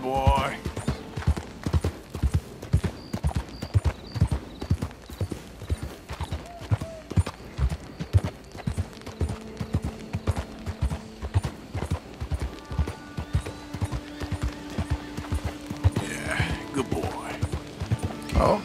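Horse hooves clip-clop steadily in Red Dead Redemption 2, a close, even trot of sharp hoof strikes running throughout, with a voice speaking over it and a brief whinny near the end.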